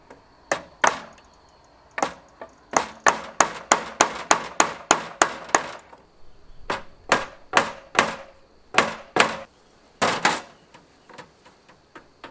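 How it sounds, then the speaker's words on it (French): Nails hammered into a stainless steel sink to start pilot holes, a close run of sharp, ringing metallic strikes, some in quick bursts and others spaced apart, with nobody speaking. "Je vais essayer de faire des pré-trous avec des clous pour faciliter le perçage dans l'inox."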